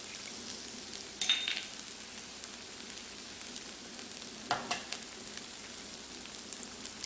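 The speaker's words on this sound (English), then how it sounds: "I'm going to add a little bit of canola oil. Just like that. And go ahead and drop my eggs right there." Eggs frying in canola oil on a Blackstone griddle make a steady close sizzle, with a few brief crackling pops along the way.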